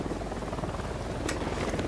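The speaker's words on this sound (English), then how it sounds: "Crouch, there's a helicopter." Helicopter on patrol in the video game Ghost Recon Wildlands, a steady low rotor drone filling the clip at moderate loudness, with a brief brighter noise near the end.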